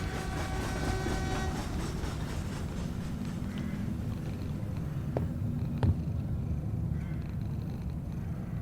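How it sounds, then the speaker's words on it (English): A continuous rumbling railroad train sound in the video game Summer of '58, with a faint rhythmic clatter, steady and mechanical, with a couple of sharp clicks partway through. "Sounds like a railroad train."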